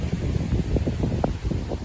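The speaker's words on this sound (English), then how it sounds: "It's been very windy yesterday and today." Gusty wind buffets the microphone with a low, rumbling roar that swells and dips throughout, no voices heard.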